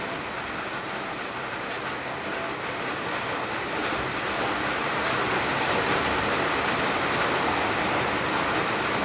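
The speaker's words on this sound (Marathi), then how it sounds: "खतरनाक असा पाऊस पडतोय बाहेर" Heavy rain pours down outside at night, a dense, steady hiss and roar that holds constant and swells slightly louder toward the end, with no voices.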